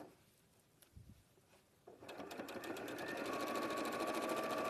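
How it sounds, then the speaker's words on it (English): Sewing machine runs steadily for several seconds after a brief start, stitching along fabric loops to the end of a seam, close and alone with no talk. "And then sew all the way to the end and reverse stitch."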